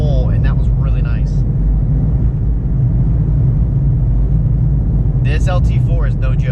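Chevrolet Camaro ZL1 with LT4 engine under steady load, a loud continuous low rumble running throughout, with someone talking over it at the start and end.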